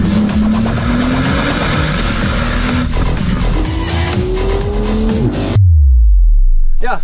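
A 2014 Porsche 911 Turbo S (991) accelerates hard, its engine rising steadily in pitch through several gear changes, loud and close under a voice talking, before a deep rumble takes over at the end.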